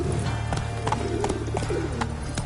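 Hooves of Geralt's horse Roach in The Witcher III: Wild Hunt, a steady clip-clop of footfalls at moderate pace over a low ambient bed, close and fairly clear.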